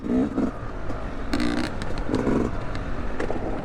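Two-stroke dirt bike engine, a Yamaha YZ250X or KTM TPI ridden on trails, revving loud and close in short rising bursts over a constant buzzing drone.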